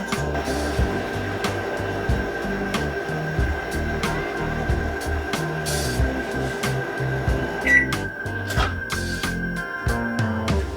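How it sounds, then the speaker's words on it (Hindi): A microwave oven runs while cooking roti, giving a steady hum with a thin constant tone under background music. "अब हम माइक्रोवेव को फिर से स्टार्ट कर देंगे।"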